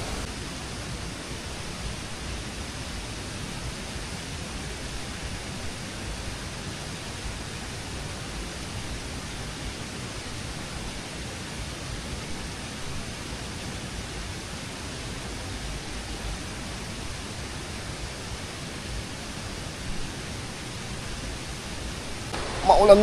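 Steady rain pours down over a farm field where cherry radishes are grown, a dense, even hiss that holds for the whole stretch, with a brief louder rustle at the very end.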